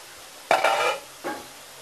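A utensil scrapes and stirs chopped banana flower vegetable with salt and turmeric in a pan, two short scraping bursts, the first longer, close and clear against quiet.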